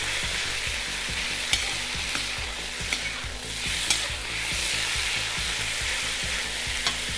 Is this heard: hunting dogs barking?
no